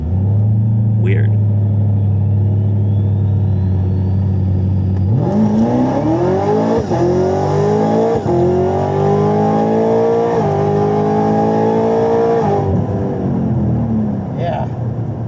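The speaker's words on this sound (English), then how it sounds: "Yeah, that's a fast car." A fast car accelerates past on a road, its engine note rising steadily in pitch through the gears with loud, continuous rumble and a whine that builds then fades.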